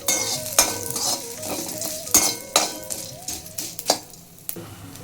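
Spices such as poppy seeds, stone flower and curry leaves are dry-roasted in a pan for Brahmin-style bisibele bath powder, with a close spoon scraping and clinking against the metal over a soft sizzle.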